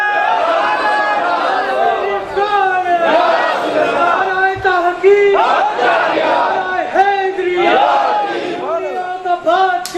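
A large crowd at a religious gathering in Mirpur shouts naara slogans in unison, loud and close, with repeated rising chants sustained throughout.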